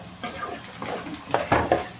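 Masala paste for a fish curry fries and is stirred in a pan, with soft scraping strokes and a few sharper clinks of the spoon against metal near the end, close and fairly loud, no voices.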